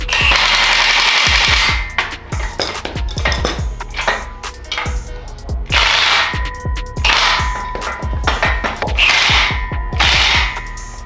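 Ratchet wrench torquing down a bolt on a Duralast 2 ton engine hoist, rapid bursts of loud metallic clicking repeated in several rounds, with clanks of steel parts between them.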